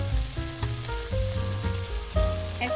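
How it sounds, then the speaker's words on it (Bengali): Spices fry in oil with cumin powder, chilli powder, turmeric and salt, giving a close crackling sizzle under steady melodic background music. "আমি মশলাটাকে এখন তেল দিয়ে আবার ভেজে নিচ্ছি"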